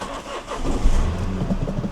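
A Mini Cooper engine cranks and catches after a short pause, then settles into a close, steady mid-pitched idle with slight unevenness, heard alone at close range.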